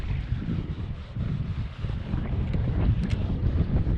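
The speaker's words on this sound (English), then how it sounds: "Wind's definitely picking up." Steady wind buffets the microphone during kayak fishing at sea off Montauk, a continuous low rumbling roar with gusts, close and fairly loud, with faint water sounds beneath and no talking.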